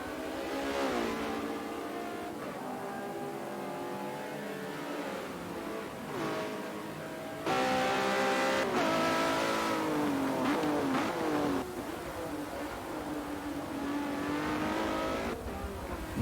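GT race cars, including a Ferrari, lap the Nurburgring GP circuit, their engines revving and shifting through gears out of a chicane, with rising and falling whines as cars pass at moderate distance.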